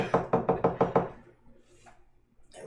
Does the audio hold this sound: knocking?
yes